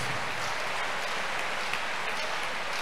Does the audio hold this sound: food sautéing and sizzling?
no